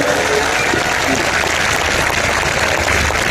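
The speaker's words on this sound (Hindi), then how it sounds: "500 करोड़ की ताली बजनी चाहिए" A large audience at a blessing festival in Ranchi claps loudly and evenly, a thick wall of applause that fills the space for a few seconds, with a voice faintly audible underneath.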